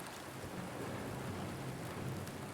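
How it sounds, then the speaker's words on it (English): Torrential rain in the Silent Hill 2 Remake game, drumming on a tin roof awning as a faint, steady wash of dense patter with no pauses and no talk. "This nice little awning, you can hear the rain"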